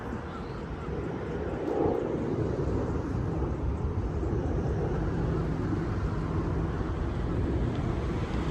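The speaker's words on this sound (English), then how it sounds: "There's a plane." An airplane passes over a Brampton shopping plaza, a broad low rumble that stays steady and fairly loud throughout with no talking.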